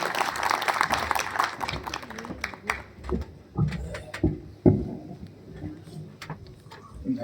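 Applause welcomes a district judge onto the stage at a lawyers' farewell function, a patter of claps from an indoor gathering with scattered louder claps and some murmuring underneath.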